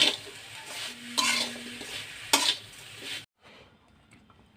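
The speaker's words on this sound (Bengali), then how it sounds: "দিয়েছি নারকেল, দেব গুড়। এখন আমি পুরটা বানিয়ে নেব।" Grated coconut and jaggery filling for steamed rice-flour pitha being stirred in a pan, with a few sharp spatula scrapes and clinks over a soft sizzle, close up and brief, ending in a near-silent pause.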